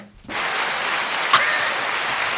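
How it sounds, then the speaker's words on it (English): A group of people clapping together, starting abruptly after a brief quiet moment and then holding as a steady, fairly loud patter of applause with one sharper accent partway through. "We're still clapping. Just keep clapping."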